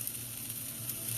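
T-bone steak sizzling on a gas grill, a steady close hiss and crackle without pauses over a brief moment, with no voices.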